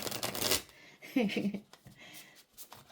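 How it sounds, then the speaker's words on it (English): A thick deck of tarot cards is riffled and shuffled in several quick bursts, with a voice talking between the shuffles. "Ooh, those are so hard to shuffle."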